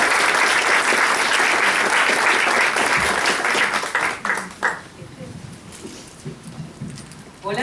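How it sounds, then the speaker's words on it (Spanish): Audience at a novel launch in Chiloé applauds a presenter, loud dense clapping for about four seconds that thins to scattered claps and fades as a voice begins. "Le damos un fuerte aplauso a Karina"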